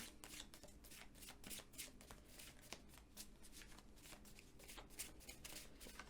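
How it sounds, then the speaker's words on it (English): A deck of cards is shuffled continuously, a soft, steady riffling and flicking heard close up and fairly quiet. "Hold on, I'm going to shuffle that again."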